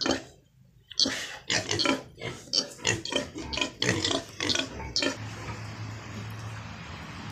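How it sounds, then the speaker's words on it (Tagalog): Pregnant sows on a pig farm grunt in a rapid series of close, rough bursts, then the grunting fades and a quieter low hum remains. "Ito po ang mga buntis na po sila guys."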